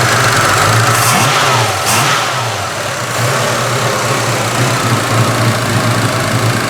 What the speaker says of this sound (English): That's the injectors pulsing.